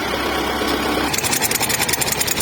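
A tractor engine digs potatoes in hard, cloddy soil, humming steadily up close before shifting into a rapid, rhythmic chugging pulse that continues to the end.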